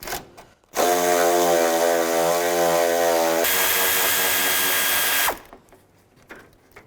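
A power ratchet or drill drives a 10mm socket to back out bolts on a 2006-2011 Cadillac DTS during radiator replacement, giving one loud continuous whirring burst of about four and a half seconds that shifts pitch midway.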